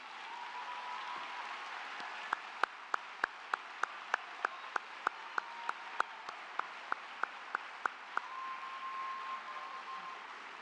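Applause at a university commencement ceremony for students graduating with honors: a broad wash of clapping from a large, distant crowd, with a run of sharp, regular nearer claps standing out over it.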